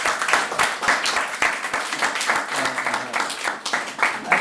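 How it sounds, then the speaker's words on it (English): Audience applause after a talk: a steady patter of many clapping hands at moderate level, with a few distinct sharp claps and a faint voice underneath. "So give yourself a round of applause"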